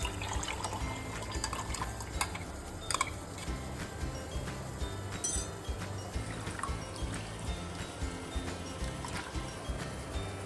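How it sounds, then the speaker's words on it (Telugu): Water is poured from a mixer jar into a cooking pot for tomato rasam. It makes a soft, continuous liquid pour and slosh, fairly faint, with a few clinks of the vessel. "నీళ్ళు పోసుకొని ఇట్లా కలే పెట్టుకొని గిన్నెలో పోసేసుకోవాలి"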